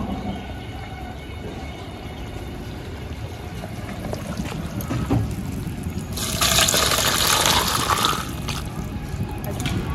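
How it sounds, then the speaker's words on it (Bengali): Thin rohu fish curry broth with papaya poured from a pan over pieces of fried fish, a steady liquid splash swelling louder for a couple of seconds near the end over faint kitchen background. "রাখা মাছের মধ্যে ঝোলটা ঢেলে নেব।"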